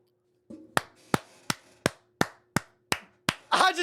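One person clapping hands close by, about eight sharp, evenly spaced claps in a steady rhythm, ending in a short burst of noise, during a casual anime manga reaction session.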